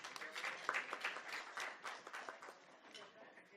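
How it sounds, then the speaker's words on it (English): Faint, scattered clapping from a modest crowd at a graduation ceremony, with individual claps audible and a light murmur of voices mixed in. "Can we clap for Evelyn"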